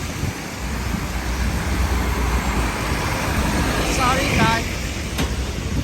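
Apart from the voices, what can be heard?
strong wind on a rainy street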